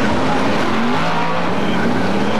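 Race cars circling Atomic Motor Speedway during a 2002 Thunder 100 feature event, a steady, continuous engine roar filling the whole moment without a break.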